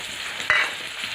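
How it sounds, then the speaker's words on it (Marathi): Curry leaves sautéing in hot oil for a Marathi farsan bhaji, a steady close sizzle with one brief louder burst of frying or a stirring scrape midway, no talking. "आता छान कडीपत्त्याची पानं पण परतून झाली"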